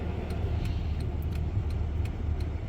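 A car drives along a lakeside road on a snowy winter day, giving a steady close interior rumble with faint, light clicking over it.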